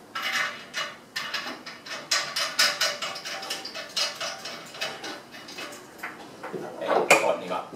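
New boiler safety valve being tightened on a Pierro Silver espresso machine, heard as a close series of metallic ratcheting clicks and scraping turns with uneven rhythm, louder near the end.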